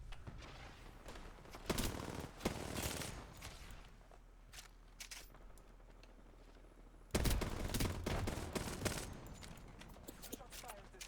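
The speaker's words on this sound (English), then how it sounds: "so much gunshots." Bursts of video game gunfire crackle in dense volleys, loudest around the start and again near the seventh second, with quieter stretches of scattered shots and footsteps between, and a voice talking over parts of it.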